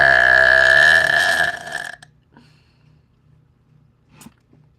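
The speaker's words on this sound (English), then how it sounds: "including burping on command." A person produces a long, loud, deep burp on command that lasts about two seconds and then trails off into quiet, with a few faint small noises afterward.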